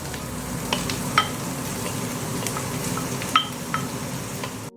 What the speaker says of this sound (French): Nos oignons sont en train de suer et du coup on met nos 150 g de lardons